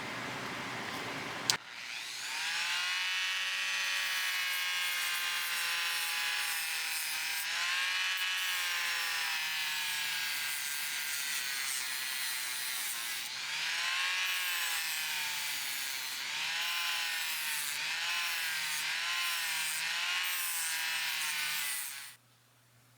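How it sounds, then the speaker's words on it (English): Vintage Boker short chain needle nose pliers being sanded with a 400 grit disc on a power tool, a continuous high whirring grind with shifting pitch and brief dips, running alone for about twenty seconds before cutting off. "While I was working on these sides with the 400 grit disc, I also went over these edges to soften them a little."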